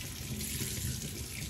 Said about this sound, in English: Now I'm gonna turn the water on and wait till it warms up here